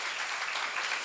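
Steady applause from a seminar audience at a church lecture on Ezekiel, a dense, even wash of clapping that holds at full strength from start to finish.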